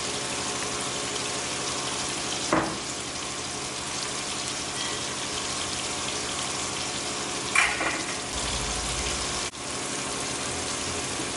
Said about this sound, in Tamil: இப்போ தக்காளி வெங்காயம் வதங்குறதுலையே நம்ம தேங்காயை வெளியே போட்டு வதக்கிக்கணும்